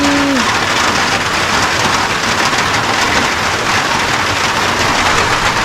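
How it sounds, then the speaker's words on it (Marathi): Dense, even hiss of the season's first rain falling steadily in Konkan, constant and fairly loud throughout, with a brief tone at the very start. "पाऊस पडायला सुरुवात झालेली आहे"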